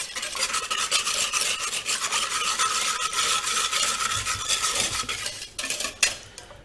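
A whisk beats yellow curry paste into coconut milk in a pot, a fast continuous rhythmic metal scraping and clatter, loud and close, with no talk.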